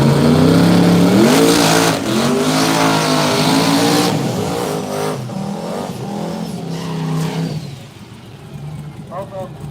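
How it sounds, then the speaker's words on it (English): Two high-horsepower hot rod cars at a no-prep drag strip, engines revving and roaring loudly with rising pitch sweeps and tire noise, a commentator talking over them before the noise fades. "Both of them super high horsepower hot rods."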